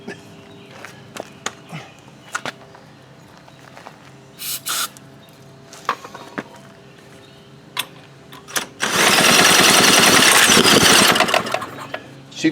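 An old Doodle Bug engine being revived: scattered clicks and knocks give way to a loud, sustained roar as it fires up and runs for a few seconds before cutting out.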